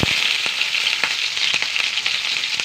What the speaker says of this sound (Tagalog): naglagay na tayo ng mantika. Next natin ilalagay yung ating sibuyas.